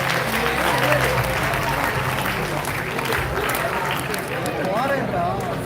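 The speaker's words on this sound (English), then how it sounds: "Let's welcome the performance with a big round of applause." An audience claps steadily and fills the hall with dense, continuous applause for a Mahabharata-themed dance performance, with a voice speaking over the crowd noise.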